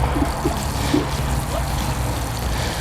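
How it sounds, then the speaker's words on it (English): Water pours around a freshly planted perennial in a garden bed, a continuous soft trickling and gurgling soak with a few faint low thumps, close and steady, no talking. "you want to give it a nice soak."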